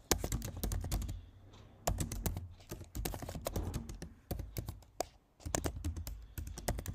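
Keys clatter in quick, uneven bursts of typing on a computer keyboard while an address is entered, with short pauses between runs of keystrokes, close and clear with no talk.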